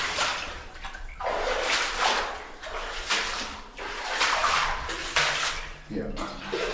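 Boots slosh and splash through water and mud in a flooded old goldmine tunnel at Karangahake Gorge, New Zealand, in a series of steady, close wading strides while people talk.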